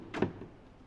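A soft-close cabinet drawer fitted with a docking power station slides shut: one brief, muffled thud and glide near the start, then quiet room tone.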